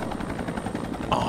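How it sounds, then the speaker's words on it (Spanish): A helicopter in the shooter video game XIII makes a brief, steady rotor thumping, moderately loud, with a burst of higher noise at the end. "Mira, el simple sonido del helicóptero me recordó todo ese pedo."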